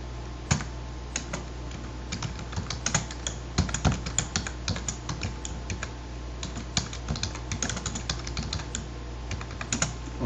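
Code being typed on a computer keyboard, with a steady run of quick clicking keystrokes and irregular bursts and pauses, close and fairly clear over a low background hum.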